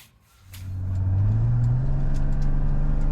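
A car pulls away on a test drive after cooling system and engine stumble repairs, its engine note climbing steadily and then holding a loud, even drone close by.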